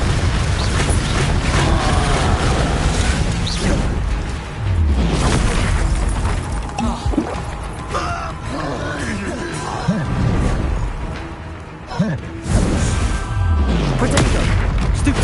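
Bombarda spell explosions in Hogwarts Legacy, dense booming blasts and bursts mixed with other spell effects throughout, loud and continuous, with a voice shouting over the chaotic combat.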